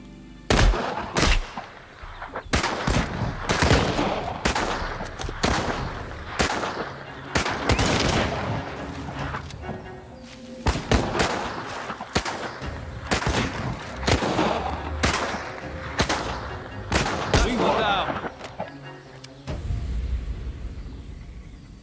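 Sustained World War II gunfire in Partisan 1941, with bursts of rifle and machine-gun shots cracking close and loud across the whole stretch, some rapid volleys and heavier booms, easing into quieter rumble near the end.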